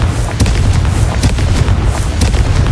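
Confringo fire spell explosions in Hogwarts Legacy on PS5, a dense run of loud booming blasts and crackling bursts in quick succession, with no talking.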